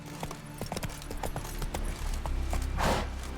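Roach, Geralt's horse in The Witcher 3: Wild Hunt, clip-clops along with a quick steady run of hoofbeats, then a soft snort as a voice briefly calls out.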